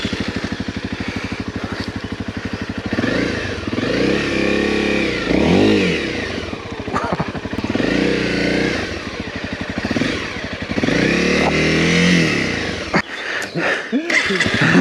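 A single-cylinder adventure motorcycle, stuck on a trail, revs hard and continuously with rising and falling engine pitch, loud and close throughout, ending in a brief burst of wind or rustle.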